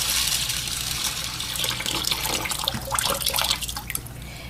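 Lukewarm water is poured slowly into a 5-gallon fish tank, a close, splashing trickle with bursts of bubbling and dripping that swell and fade over several seconds.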